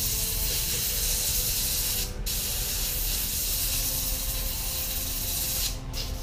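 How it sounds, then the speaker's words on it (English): An aerosol can sprays a single line of paint onto a Tau Tiger Shark miniature model, a loud, steady hiss held close up with two brief breaks where the nozzle is released. "I'm going to spray a very singular line."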